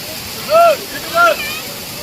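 Paritala waterfall roars as a steady, full rush of falling water, with two short rising-and-falling voice-like calls or whistles standing out above it.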